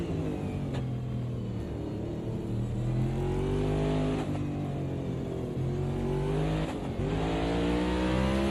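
A race car in the CASSCAR sim racing game on the Indianapolis Motor Speedway road course revs hard under shifting throttle, its engine note rising and dipping in steady waves with brief gear-change breaks.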